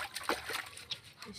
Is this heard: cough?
no